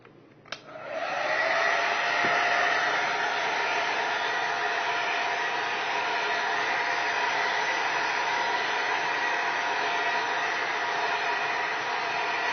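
A hair dryer on its hot setting blows a steady, loud roar while drying freshly cleaned sterling silver. It switches on within the first second and holds an even, continuous tone to the end, with no voices.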